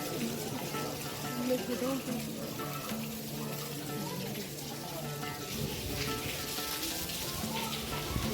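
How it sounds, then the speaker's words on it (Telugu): Steady, dense hiss of rain falling at Brihadeeswara Temple in Thanjavur, with a faint murmur beneath it throughout. "వర్షం పడుతుంటే చూడండి ఎలాగుందో"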